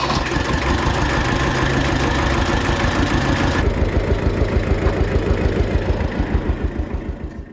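A tractor engine runs steadily with a PTO-driven spreader attached, a loud continuous mechanical drone with a rhythmic pulsing that grows more pronounced toward the end.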